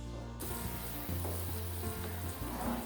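Fish pieces slide into a simmering ginger fish curry gravy, setting off a steady, close sizzle and bubbling with low hum underneath.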